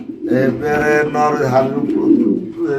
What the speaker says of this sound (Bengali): এটা হচ্ছে মাদি কবুতর